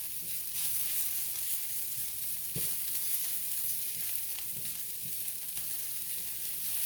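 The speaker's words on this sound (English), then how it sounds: "you just let your spinach cook until you get all the moisture out of it" Spinach and onions sizzle steadily in a pan over medium heat, a continuous bright frying hiss with a few soft stirring clunks and taps scattered through, no talking.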